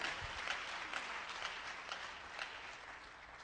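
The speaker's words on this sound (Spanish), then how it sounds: "Dele palmas al Señor de la gloria." A church congregation claps for the Lord during a Spanish-language sermon, a soft, distant patter of applause with a few louder claps spaced through it, quietly continuous.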